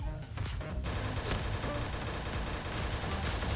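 A SIG-Sauer MCX fires rapidly in a video game, a loud, dense rattle of shots that starts after a brief lead-in and runs unbroken to the end.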